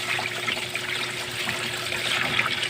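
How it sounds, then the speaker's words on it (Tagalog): Water streams steadily into a filterless catfish (hito) pond, a continuous close trickling and splashing wash with no pauses. "Dagdagan na natin ng tubig agad."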